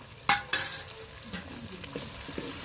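Tomatoes and green chillies being stirred in a frying pan, with two sharp scraping strokes near the start and a later one over a low, steady sizzle.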